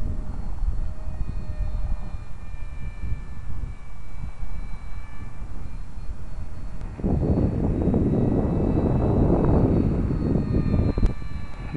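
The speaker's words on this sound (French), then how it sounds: "un autre produit de Air Hog. Cet petit avion se nomme le Titan." An Air Hogs Titan remote-control toy airplane flies with a steady, thin, buzzing electric motor whine that grows louder and rougher about halfway through as it passes nearer, with no talk.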